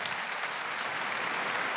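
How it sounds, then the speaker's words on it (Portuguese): A congregation claps steadily at a Catholic church service led by a priest, a dense, continuous wash of applause that fills the space from start to finish without pause. "Aplauda essa bênção que está aí do seu lado"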